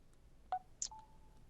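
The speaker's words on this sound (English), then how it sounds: "Trying to get my phone muted." A phone gives a few brief, faint button beeps, with a short pause between presses, in an otherwise quiet room.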